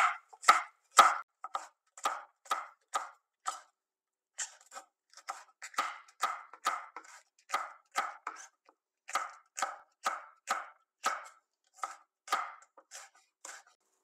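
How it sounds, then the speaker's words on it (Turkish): Green village peppers are cut into large pieces with a knife on a board, a series of crisp, evenly spaced chops in quick bursts with brief pauses, close and clear with no talking. "Şimdi 2 adet yeşil biberim var, köy biberim. Bunları da iri iri doğruyorum."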